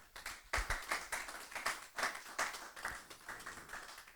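A church congregation claps in praise of Christ, a brisk run of rhythmic handclaps at moderate distance, with no voices standing out.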